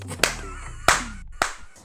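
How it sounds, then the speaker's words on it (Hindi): Three sharp, separate hand claps in a courtroom, spaced about half a second apart, close and crisp over a quiet room with no talking. "Mr. Register, क्या आप ताली बजाना बंद कर सकते हैं प्लीज?"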